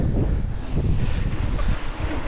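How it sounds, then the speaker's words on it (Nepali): Cold wind blows hard across an open riverside area during a cycling ride in Japan, a dense, loud rumble of gusts battering the microphone without a break, with no speech. "पुरा एकदम हावा चिस हावा चलिरहेको"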